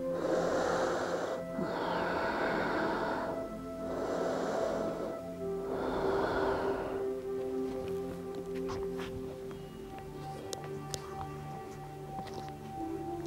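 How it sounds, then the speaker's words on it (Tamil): Deep yoga breathing in and out on a televised health and fitness session: four long, loud, airy breaths in a steady rhythm over a soft sustained tonal drone, then quieter background sound with no talking. "ஆழ்ந்த மூச்சு உள்ளே இழுத்து வெளியே விடலாம்."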